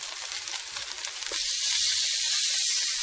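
A lentil burger pressed into a hot pan, breaking into a loud, bright, continuous sizzle with crackling after a quieter first second.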